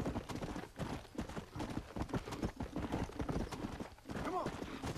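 Horse hooves clip-clop steadily in the Red Dead Redemption video game, a continuous rhythmic trot at moderate volume blended with game ambience and occasional voices.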